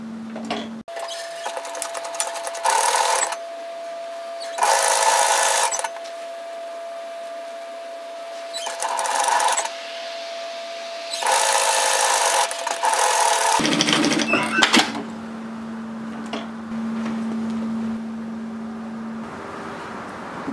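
A serger overlocks the edge of a garment seam on a shacket, running in several loud bursts of whirring and chattering separated by short pauses, followed by a quieter steady hum near the end.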